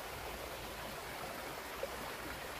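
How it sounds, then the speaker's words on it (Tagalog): Steady soft rushing of a river stream flowing through Chi Fu forest, a faint even wash of water without breaks and with no voices. "May ilog din siya."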